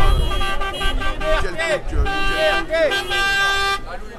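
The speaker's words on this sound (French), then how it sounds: "Vous entendez également les klaxons des voitures dans l'autre sens" Several car horns honk repeatedly in overlapping toots of different pitches, loud and close, from passing traffic at a street demonstration in Saint-Pierre, Réunion, with traffic noise and a voice underneath.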